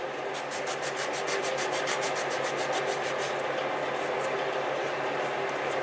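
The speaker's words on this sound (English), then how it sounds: "you can simply just run it over your nail file or sanding block, whatever it is that you're using" A paper blending stump rubbed back and forth over a nail file or sanding block, giving a steady, close, dry rasping scrape with quick repeated strokes that continue evenly throughout.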